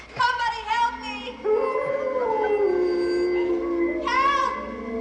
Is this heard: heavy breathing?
no